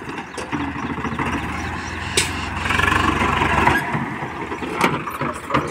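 A Swaraj tractor stuck in a field pulling a load of sand, its engine running loud and steady with a strained squealing whine throughout and brief sharper clatters.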